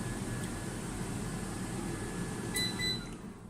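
Dual-basket air fryer preheating at 200 degrees, a faint steady fan whir and hum with a few short electronic beeps near the end, no voices.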